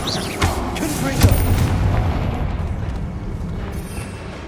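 A Confringo spell explodes in Hogwarts Legacy, giving a close, heavy boom with a crackling rumble that slowly fades, while a voice is heard over the start.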